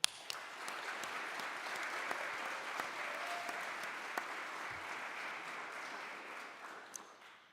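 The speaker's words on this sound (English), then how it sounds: "Let's give a big round of applause to our government team." Sustained applause from an audience at a college debate event, a dense steady patter of many hands clapping throughout with no voices over it, fading slightly at the end.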